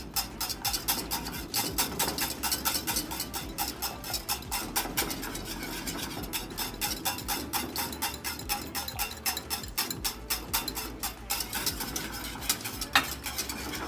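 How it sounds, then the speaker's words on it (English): A whisk rattles rapidly and continuously against a pan while sweet white sauce is stirred over a low flame, a close scraping, clicking rhythm running steadily throughout without talk. "I'm going to keep on whisking, low flame."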